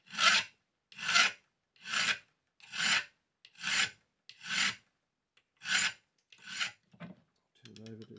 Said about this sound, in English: So I'm just going to file